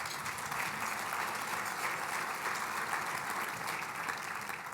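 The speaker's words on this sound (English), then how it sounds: "Please give them an applause." A crowd claps steadily and evenly throughout, a dense sustained round of applause with no voices standing out.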